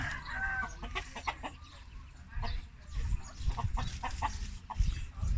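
Chickens cluck softly and intermittently in the background, a low scattered farmyard murmur with no voices.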